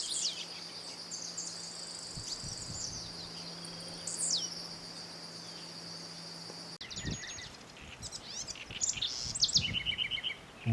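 A small wren, about 10 centimetres long, sings clear, high chirping phrases over a steady drone of insects, then livelier twittering toward the end.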